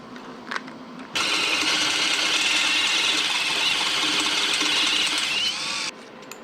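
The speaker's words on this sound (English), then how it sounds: "I'm gonna drill through both of them." A 5mm hole is drilled through a metal fender mount, the bit whining steadily and loud at close range for about five seconds, starting and stopping abruptly with no talk.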